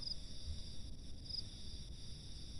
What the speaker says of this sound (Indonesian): Nah, ini jangkrik seliringnya deh